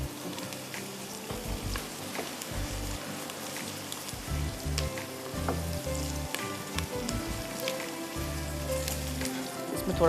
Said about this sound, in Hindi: इसमें थोड़ा टाइम लग जाएगा बिकॉज आई वांट कि अच्छी तरह प्याज ब्राउन हो जाए